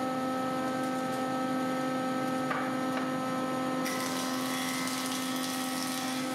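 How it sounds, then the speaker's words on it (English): An edging machine runs steadily in a woodworking shop, a constant tonal hum with strong harmonics; a brief contact change partway through, then a broader hiss as the cut continues, no voices. "The edging machine again."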